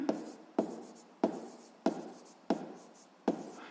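Chalk or marker strokes on a classroom board during a physics lesson, six sharp taps each trailing into a short scratchy stroke at a steady rhythm, close and moderately loud with no talking.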